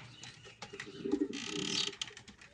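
White American fancy pigeon cooing at a pigeon farm in Faisalabad, a faint, soft, short, low throaty coo of a couple of seconds, heard close with light background noise.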